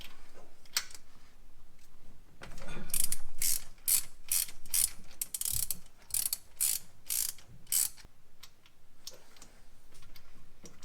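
A swivel-head ratchet backs spark plugs out of a Pontiac 400 engine, its pawl clicking in quick rattling bursts with short pauses between turns, close by.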